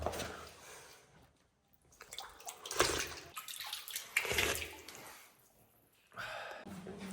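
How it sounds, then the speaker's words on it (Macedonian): Spring water inside the church at St. Naum monastery on Ohrid lake trickles and splashes in uneven surges with quiet gaps between them, heard close by. "Внатре во црквата имате и извор."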